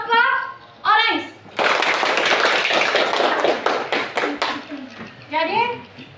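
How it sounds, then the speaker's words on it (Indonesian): Applause for the orange group in a classroom, a group of children clapping loudly and close for several seconds, between stretches of speech before and after. "Coba tepuk tangan untuk dari kelompok orange."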